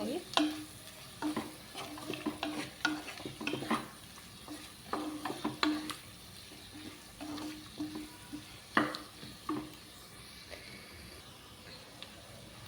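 Chili powder being stirred into a bitter gourd tamarind curry in a pan, with repeated rhythmic spoon scrapes and clacks against the pan over a soft, steady sizzle, close and moderately quiet.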